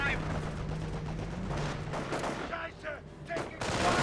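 Gunfire from a Company of Heroes World War II battle, with sniper rifles shooting at long range amid a steady rumble of battle and a few distinct shots toward the end, under a low hum.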